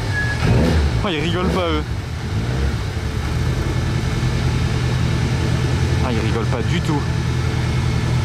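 Lancia race cars arriving at the Monaco Grand Prix, their engines a steady low rumble and drone throughout, under excited French talk and crowd noise.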